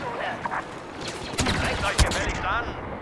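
Blaster gunfire in a Star Wars Battlefront multiplayer match: a few sharp shots and bursts, two strong hits near the middle, mixed with game effects while a player talks throughout.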